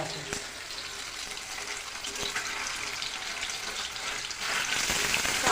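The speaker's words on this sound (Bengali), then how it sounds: "এ দেখো তেল গরম হচ্ছে পনিরটা দিয়ে দিলাম" Paneer pieces dropped into hot oil in a home kitchen pan, a continuous crackling sizzle that swells louder toward the end, with a few sharp clinks along the way.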